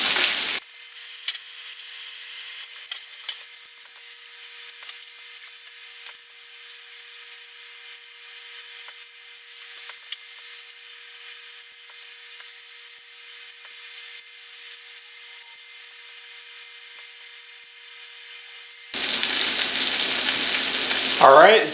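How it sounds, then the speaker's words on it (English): Chicken sears in a pan with a continuous low, even sizzle that holds steady for a long stretch, with a brief louder burst of frying noise at the start and again near the end. "And I would probably sear these for maybe 3 minutes."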